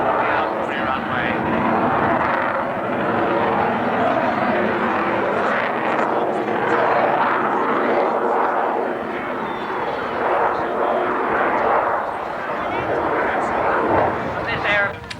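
Large black reconnaissance jet climbing steeply off the Alconbury runway at a 1991 airshow, a loud continuous roar of jet engines heard throughout under a commentator's voice.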